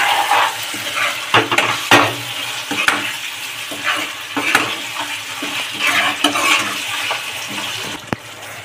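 Curd vegetable curry stirred in a pan, with repeated scraping and clanking strokes of a spoon over a low bubbling sizzle, fairly close and steady.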